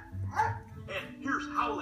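A cartoon dog character in Pixar's animated film Up lets out three short, yipping barks spaced about half a second apart at moderate volume.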